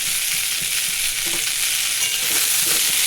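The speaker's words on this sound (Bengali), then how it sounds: "পেঁয়াজটা হালকা একটু ভাজা ভাজা করে নেব" Onions with yardlong beans and pointed gourd fry and get stirred in a pan, giving a steady, close hiss with faint scraping touches throughout and no voices.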